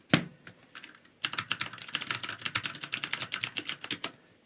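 Fast typing on a Cherry MX Board 1.0 TKL mechanical keyboard with Cherry MX Blue switches and ABS keycaps, a close, crisp run of clicky keystrokes after a single opening clack, with no talking.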